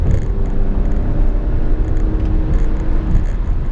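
A 505 hp 2018 Alfa Romeo Stelvio Quadrifoglio SUV engine roars and revs hard in race mode at close range, a loud, steady, throaty rumble with no talking.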